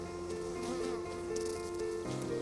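Swarm of honeybees around beekeepers in protective suits at hives, a steady dense buzzing hum throughout, fairly faint and continuous.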